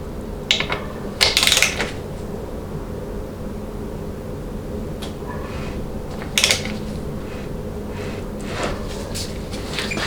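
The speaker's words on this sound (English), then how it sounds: "this basically gets 150 inch-pounds, so that's what we're going to torque it to" Torque wrench tightening a bolt to 150 inch-pounds on a Chrysler Jeep A904 transmission during rebuild assembly, with a few short ratcheting clicks over steady background hum.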